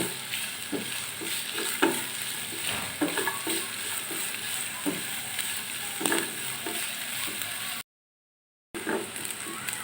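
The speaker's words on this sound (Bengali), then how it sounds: "পেঁয়াজ দুইটাকে ভালো করে ভাজা ভাজা করে নিব" Two onions fry in a pan with a constant close sizzle, punctuated by repeated scraping and tapping strokes of a spatula as they are stirred. A brief gap of silence interrupts near the end, and no one speaks.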